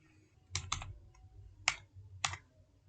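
Code typed on a computer keyboard during a front-end web development lesson on HTML: a few separate bursts of key clicks, close and fairly quiet, with no speech.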